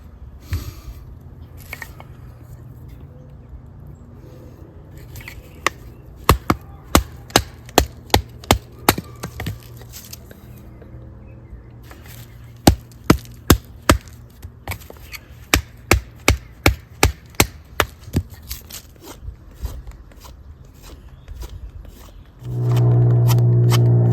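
Sharp, rhythmic chopping clicks from a knife shaving wood into fire-starting shavings outdoors in the woods, coming in quick bursts with pauses, followed by a louder low rumble at the end.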